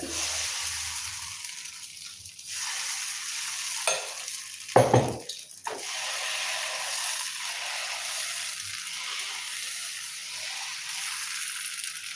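Karupatti appam batter hitting a hot pan on a low flame, giving a steady broad sizzle throughout with a brief louder burst of spattering near the middle, no voices present.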